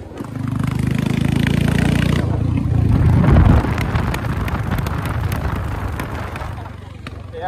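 Royal Enfield Hunter 350 motorcycle running without a silencer, a raw engine drone close to the mic with a scatter of sharp exhaust backfire pops in the second half, buffeted by wind noise.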